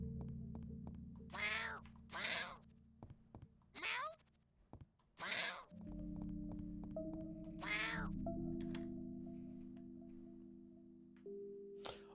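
Several short meows from a cat in the video game YIIK, spaced irregularly over a steady droning game soundtrack, each call clear and fairly close.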